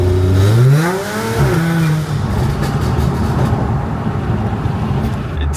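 Audi S4 fitted with test pipes revs hard, the engine note sweeping up and down through a couple of throttle blips, then settling into a loud, raspy, droning exhaust as the car drives on.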